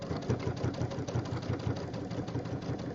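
Sewing machine stitches binding around the edge of a jelly roll rug, a fast, even mechanical whirring with rapid needle pulses, steady and close throughout.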